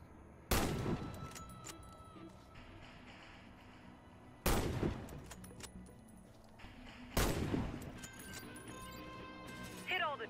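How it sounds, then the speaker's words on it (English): A sniper rifle fires at targets in the shooter game Warface: three loud, sharp shots spaced a few seconds apart, each followed by a short ringing tail over quiet background. "Hit all the targets with your sniper rifle."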